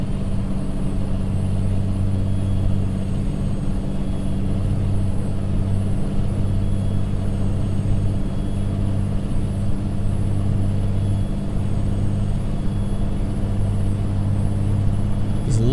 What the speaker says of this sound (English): Love the sound of that cat engine humming away.